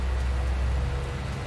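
Steady rain hisses as a dense, even wash of noise in the game Irgendwo in Thüringen, constant and fairly loud with no voices over it.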